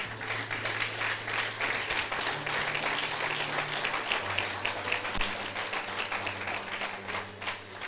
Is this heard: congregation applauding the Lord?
yes